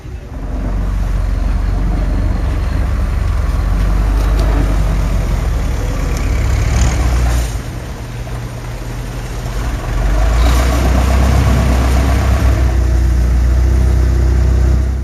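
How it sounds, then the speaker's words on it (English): A long-tail boat engine drones loudly and continuously on a Bangkok canal, a close, rumbling motor that dips briefly in the middle and then rises again, with water and wind noise around it. "in a long-tail boat."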